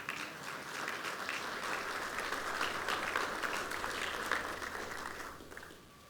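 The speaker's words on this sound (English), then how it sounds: "I'm shocked that's the first applause that I've gotten" Sustained audience applause at a university state-of-the-university address, a steady broad wash of clapping hands in a large hall that holds for about five seconds and then fades out.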